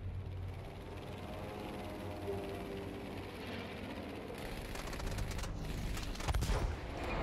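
Aircraft guns in Battlefield 5 rattle in bursts over a steady drone of engine noise, quiet at first and then heavier fire toward the end.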